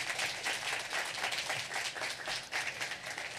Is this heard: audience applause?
yes